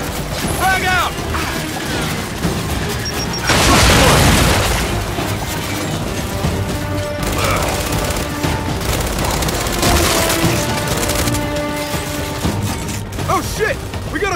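Grenade blasts and gunfire in the Gears 5 video game on Insane difficulty, with a loud booming burst near the start followed by dense, continuous mechanical combat noise and clanking, and game voices talking over it.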